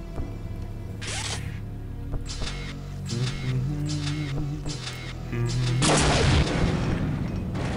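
Repeated explosions and blasts in the video game Unreal, a series of sharp bursts with mechanical clanks over a low droning game soundtrack, growing louder and denser toward the end.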